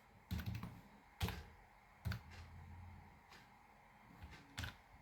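A computer keyboard is typed on while working in an Excel spreadsheet, giving a handful of separate, crisp key clicks and clacks with short pauses between them. The room is quiet and there is no talking.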